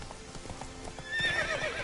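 Roach, a horse in The Witcher 3, gallops with steady clip-clopping hooves, then gives a loud high neigh over the hoofbeats near the end.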